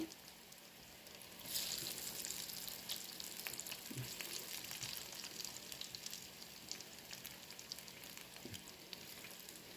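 Moong dal pakodas fry in hot oil, giving a steady, fairly faint bubbling sizzle throughout with no stirring.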